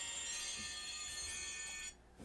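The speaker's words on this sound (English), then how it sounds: "I have my phone silenced, but it will still ring if you have an alarm set" A phone alarm rings indoors in a steady, high electronic tone, faint but continuous, and cuts off abruptly near the end.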